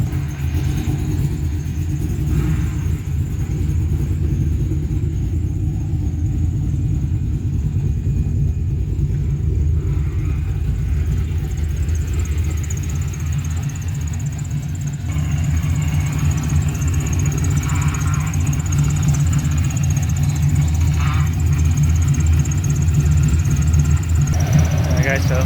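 An LS-swapped Chevy C10 square body's engine idles steadily at close range, a continuous low rumble that holds even for the whole stretch, with a cooling fan running and voices talking intermittently over it.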